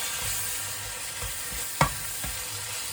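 Pork with paprika spices frying in a pan and being stirred, with a steady sizzling hiss and a brief sharp clink of utensil against pan partway through.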